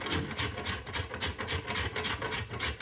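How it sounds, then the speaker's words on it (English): Frozen butter is grated into flour on a box grater in a kitchen, a close, rhythmic scraping rasp repeating about every quarter second with steady back-and-forth strokes. "Just sit there and grate this butter into that flour."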